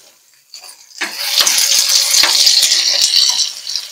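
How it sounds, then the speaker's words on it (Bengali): Onion paste hits hot oil in a pan while a lote fish dish is being cooked, bursting into a loud, bright sizzle after a brief clatter, then a steady crackling hiss with small pops. "এবার আমি পেঁয়াজ বাটাটা দিয়ে দিচ্ছি।"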